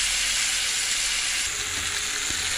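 Fish head and masala fry in a pan with a loud, steady, close sizzle and a faint stirring bump near the end.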